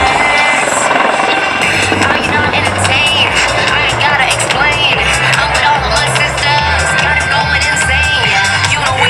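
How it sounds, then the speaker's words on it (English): An AH-64 Apache helicopter flies a wingover manoeuvre in a display at the Singapore Airshow, its rotor and engine roar loud and continuous under a public-address commentator's voice and a crowd. "the Apache will now execute its next maneuver, gracefully balancing between its energy and its ability on slow speed handling in a 360 wing over"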